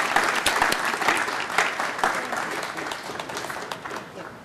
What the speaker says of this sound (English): Let's applaud Gail again.